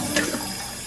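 Water runs steadily into a toilet tank refilling after a flush, with a brief splashing rise near the start and a continuous close rush that then settles.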